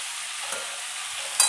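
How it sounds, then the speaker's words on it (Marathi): Vegetables for Bhogi bhaji, a Makar Sankranti dish, being stirred in a frying pan: a steady, close sizzle throughout, with a soft scrape partway through and a brief louder stir near the end. "आता हे सगळं आपल्याला हलवून घ्यायचं आहे."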